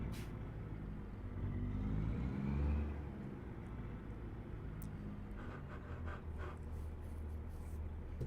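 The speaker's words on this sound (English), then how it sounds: "My truck's making some sounds. Sounds like it needs to be repaired." A low, rumbling truck engine in need of repair idles steadily, swelling briefly louder near the start before settling back to a continuous drone, with faint rattles above it.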